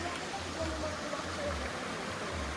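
Steady broadband rush of water at Bolinao Falls in Pangasinan, a low waterfall pouring into a stream beneath a footbridge, continuous and fairly close with no talk.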